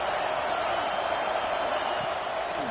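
Steady, dense crowd roar fills a College Football 26 video game broadcast of a Longhorns game, a continuous wash of stadium noise at even loudness with no distinct cheers or talk standing out.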